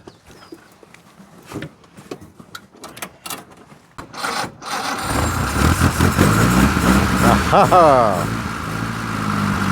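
A 1924 Austin Seven's engine cranks and catches after scraping and handling noises, then settles into a loud, steady rough idle; a voice exclaims briefly.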